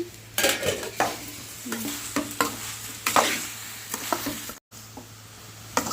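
Okra dry-frying in a home pan with no oil, stirred repeatedly with a utensil: close, irregular scraping strokes over a soft, steady sizzle, with a brief dropout near the end.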